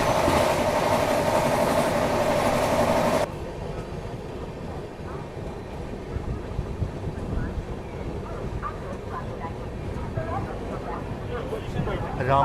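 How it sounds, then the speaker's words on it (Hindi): Rameswaram Okha Express passing at a station near Manmad Junction, a loud broadband rush of rolling wagons for the first three seconds, then a quieter rumble of rail noise with clicks and talk in the background. "तो ये है रामेश्वरम ओखा एक्सप्रेस।"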